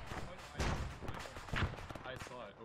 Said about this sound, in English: Oh, there's a new explosion.